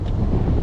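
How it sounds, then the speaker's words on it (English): Low, rumbling wind buffets the microphone in a brief, loud burst of muffled noise. "Apologize for the wind out here,"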